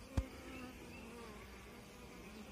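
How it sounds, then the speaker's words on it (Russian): A honeybee flies near a beehive in a swarm-catching apiary, a faint steady buzz after a brief low thump at the start. "пчелка летит."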